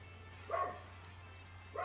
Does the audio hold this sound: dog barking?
yes